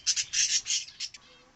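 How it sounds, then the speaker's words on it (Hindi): Budgerigars squawk and chirp in an aviary in a quick burst of sharp, shrill calls, several overlapping close notes that then trail off into quiet. "अभी जितने भी बजीज है मेरे पास सब मीटिंग मूड में आ गए।"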